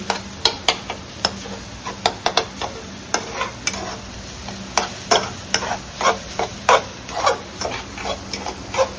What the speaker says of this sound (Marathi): बघू शकतात अशा प्रकारे बुर्जी ढवळ आणि अंडी बिंडी टाकून